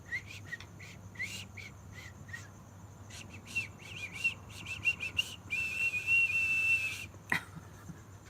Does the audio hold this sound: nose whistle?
yes